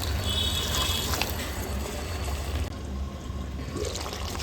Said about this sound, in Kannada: ಸ್ವಲ್ಪ ಬಿಸಿನೀರು ಬೇಕಿದ್ರೆ ಇವಾಗ ಹಾಕ್ಕೊಳ್ಳೋಣ